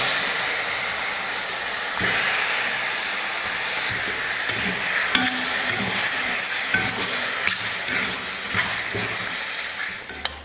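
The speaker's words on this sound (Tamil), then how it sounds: "ஈரல் போட்டு வதக்கி விட்டதுக்கப்புறம்" Half a kilo of cleaned goat liver sautéing in a pan with garlic, a continuous loud sizzle and hiss with occasional stirring scrapes, no voices.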